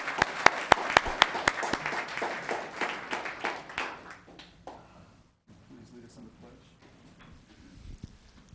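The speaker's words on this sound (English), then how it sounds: "Let's give a round of applause for Bob and Pat Jones." A room at a town council meeting applauds a long-married couple. Sharp, close claps start loud and dense, then thin out and fade within a few seconds, leaving quiet room noise with light shuffling.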